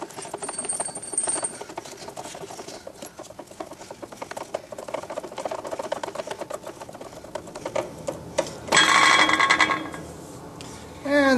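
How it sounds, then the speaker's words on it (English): A wheel unthreaded from a threaded spindle during a small rover build: soft, rapid ticking and whirring runs steadily, then a brief louder grinding burst comes near the end. "unthread the wheel"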